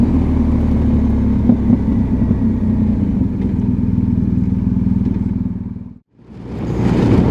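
A BMW R1250GSA motorcycle cruises on a Polish motorway, with a loud, steady engine drone and wind roar close by, broken by a brief dip near the end before the noise returns.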